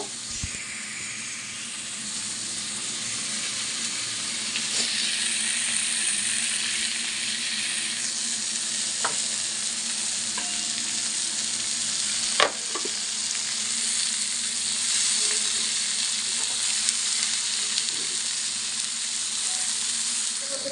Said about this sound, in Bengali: বাঁধাকপি মশলা কষা হয়ে গেছে এখন বাঁধাকপিগুলো দিয়ে দেবো